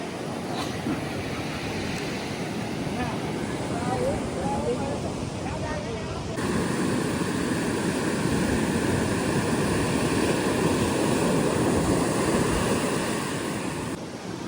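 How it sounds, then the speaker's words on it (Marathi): Big monsoon-season waves crash and roar continuously at Baga beach in Goa. A dense, loud surf wash is buffeted by wind on the microphone, with people talking nearby. "मोठमोठ्या लाटा इथे त्यातून बघू शकता आमच्या मागे."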